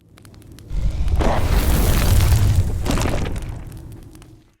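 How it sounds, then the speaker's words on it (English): Designed fire magic attack for an action RPG: flames burst up from the ground with a deep, sustained rumble and crackling roar that swells, holds for several seconds, then fades out. "The main magic attack shoots fire up from the ground, so I incorporated the low rumbling as if the flames are breaking through the earth to reach the surface."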